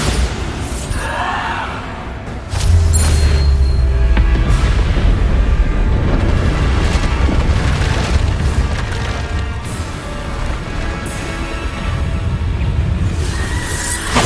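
A Bombarda blasting spell exploding in Hogwarts Legacy: a sudden deep boom swells into a sustained rumbling roar that slowly fades, with a brief high squeal.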